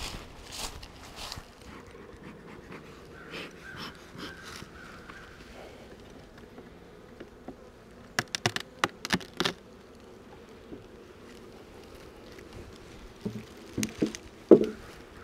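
A honey bee swarm being hived gives off a faint, continuous low buzz, with scattered sharp clicks and a few louder taps near the middle and end.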